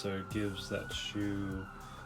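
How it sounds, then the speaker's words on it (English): Police sirens wail at a distance on a city street, a faint rising and falling tone running behind close, continuous conversational speech. "Sorry for the sirens in the background."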